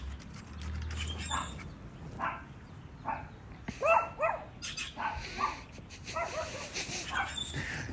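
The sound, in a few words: dog barking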